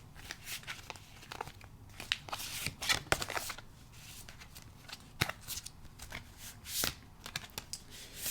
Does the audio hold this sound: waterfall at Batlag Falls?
no